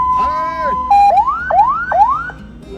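A loud, close electronic ambulance siren, heard from inside the ambulance, cycles through a steady tone, then repeated rising whoops, with faint voices underneath.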